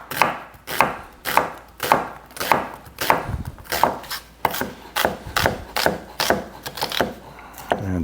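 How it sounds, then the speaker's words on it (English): A knife slices a yellow onion with the grain on a cutting board, giving a steady run of crisp, close chops at an even pace with no voices. "So I'm going to cut it with the grain like this"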